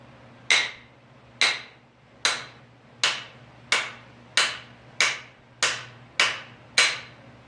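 Hammer blows drive a wooden handle into a BSA Scout axe head, ten sharp, evenly spaced strikes, each ringing briefly and decaying, loud and close with no talk.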